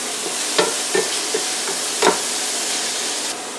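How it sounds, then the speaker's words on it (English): Onions and peppers sauteing in a pan give off a steady, loud hissing sizzle, with a few soft stirring scrapes and taps on top and no voices. "saute these to a nice translucent so you can see through the onions"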